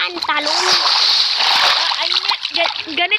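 A person jumps into water at a park, making a loud, sustained splash and sloshing up close, with excited voices of children and adults talking and calling over it.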